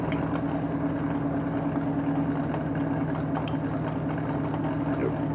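A stationary bike generator spins at about 500 RPM, giving an even, droning mechanical whir that holds steady and close for the whole stretch, with no voices.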